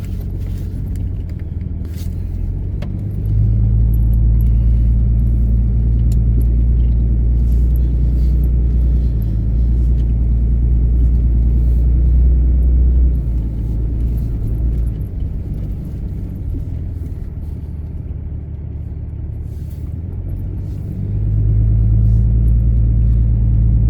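Pickup truck engine climbing a snowy mountain road off-road in West Virginia, a loud continuous low rumble that swells as the truck pushes harder, with occasional rattles and clinks from the cab.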